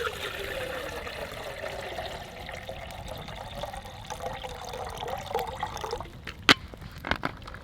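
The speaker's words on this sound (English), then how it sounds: "I'll fill this billy can with water." Water runs into a metal billy can from a pouring source, a steady trickling stream for about six seconds, then a few sharp knocks and clinks of the can near the end.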